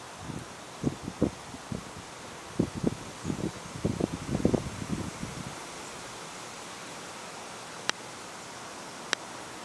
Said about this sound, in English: Still breezy, as you can tell.